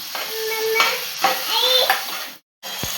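Mashed pav bhaji vegetables stirred into fried masala in a pan, with a spatula scraping and clinking against the metal and a soft sizzle, several strokes close up before a brief silence and a final knock.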